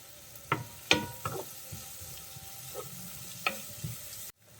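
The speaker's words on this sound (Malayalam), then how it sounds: "ചെറിയ ഉള്ളി നന്നായിട്ട് വഴണ്ട് കിട്ടണം" Small onions and curry leaves sauté in a pan for Kerala-style beef ularthiyathu: a low, steady sizzle runs throughout, broken by several sharp spoon scrapes and stirs, then the sound cuts off abruptly near the end.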